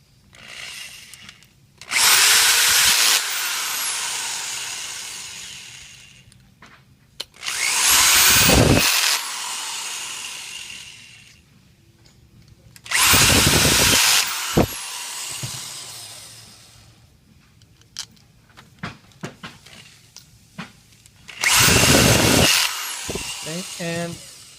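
A power tool drives the four pump head screws during pump assembly, sounding as four loud whirring bursts of a few seconds each, close up. Quieter gaps between the bursts carry softer handling noises and clicks.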